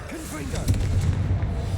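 A Confringo explosive spell goes off in Hogwarts Legacy, giving a close, heavy boom with crackling bursts over a short low rumble.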